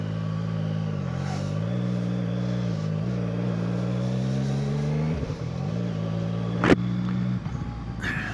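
A 2025 CFMoto 675SR-R motorcycle engine hums steadily and rises in pitch as the bike pulls away, with a loud wind rush over the rider and a brief sharp knock near the end.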